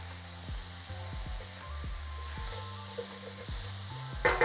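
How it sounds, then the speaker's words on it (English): Diced vegetables browning in oil in a Dutch oven, a steady close sizzle with occasional stirring scrapes and a brief louder clatter at the end, no talk. "We're just going to brown them off and until all the vegetables are softened."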